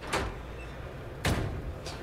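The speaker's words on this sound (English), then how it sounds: "Open the door." A door opening in a sci-fi space drama, heard as two short whooshing, hissing sweeps with low thumps, about a second apart, fairly faint.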